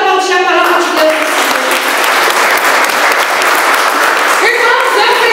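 A church congregation breaks into loud, sustained applause, dense clapping from many hands close by, with a speaking voice audible at the start and end.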